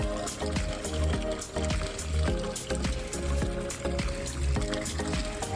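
Water pours and splashes in uneven surges into a container, close by, with a faint low murmur in the background.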